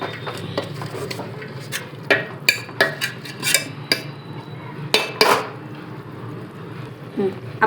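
A spoon stirs spinach bhaji in a metal pot, giving a run of scraping knocks and clatters against the pot. The strokes come close together and fairly loud, several in quick succession, with a steady cooking hiss underneath and no talk.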